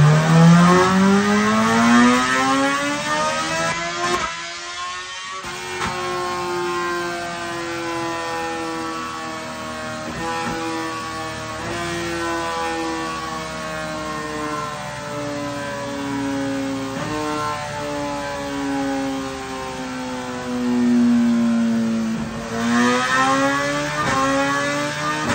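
A BMW S1000R motorcycle fitted with a Lextek exhaust revving during engine mapping, holding a sustained, buzzy engine note that climbs and dips gradually over about 25 seconds, loud and close, with no talking.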